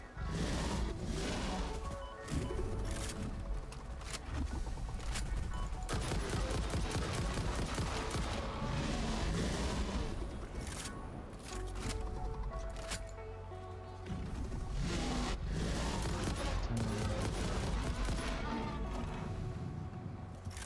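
Sustained bursts of gunfire from a first-person factory-building game, Satisfactory, rattling in rapid fusillades across the whole stretch with brief lulls, loud and dense against a busy game-sound backdrop.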